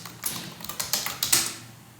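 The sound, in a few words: typing on computer keyboard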